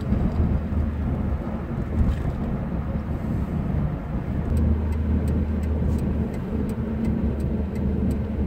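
A car crosses the bridge at Terminus, a heavy continuous low road rumble and tire roar filling the cabin, with faint regular ticking higher up in the second half and no talk.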